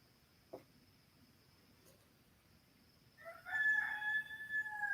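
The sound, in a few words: rooster crowing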